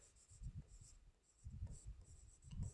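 A pen or chalk writes on a surface in short scratchy strokes, quiet and close, in bursts separated by brief pauses.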